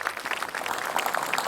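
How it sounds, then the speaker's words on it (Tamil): A live audience claps steadily at a children's comedy show, a dense patter of many hands heard up close for a short burst. "கைத்தட்டல் கொடுங்க."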